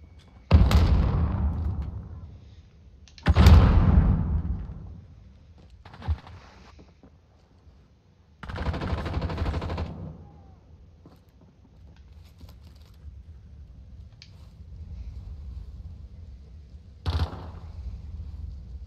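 Gunfire in Call of Duty Modern Warfare during a hardcore team deathmatch: several loud bursts of shots and blasts, spaced apart with quieter gaps of game ambience between them.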